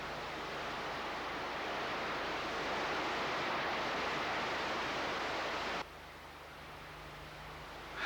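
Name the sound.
waterfall after wet season storm, column of white water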